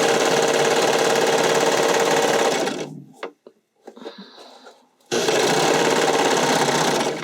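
A sewing machine or serger stitches a stretch-knit bodysuit seam, running loud and steady in two long bursts with a quieter pause between them, with no talking.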